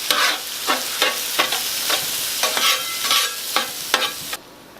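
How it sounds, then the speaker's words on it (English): Spatula strokes stir eggs into chorizo on a 17-inch Blackstone griddle, a steady run of about eight close scraping, sizzling pushes over constant frying hiss, ending abruptly. "we just kind of stirring our eggs into the chorizo here"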